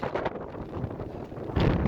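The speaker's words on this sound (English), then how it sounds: "Super windy. Temperatures dropping like crazy. I gotta get out of this wind" Strong wind buffets the microphone in loud, gusty roars, surging harder near the end, while backpacking near Lakes of the Clouds in Colorado's San Isabel National Forest.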